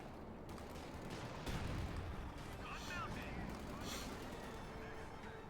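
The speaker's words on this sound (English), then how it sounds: "Pioneer still being shot at." Rattling gunfire and distant explosions from a Company of Heroes 2 battle aimed at a Pioneer unit, a busy continuous barrage of shots and booms throughout.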